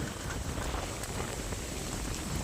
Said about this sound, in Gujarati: વાવાઝોડું વરસાદ આવ્યો છે ફૂલ